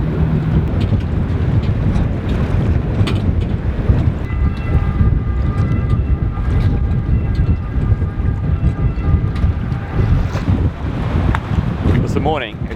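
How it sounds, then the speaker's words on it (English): Steady wind of 12 to 15 knots buffets a sailboat, a broad continuous rumbling roar that stays loud and close throughout, with faint creaks and a brief whistling tone near the end. "We've got winds blowing anywhere between 12 and 15 knots."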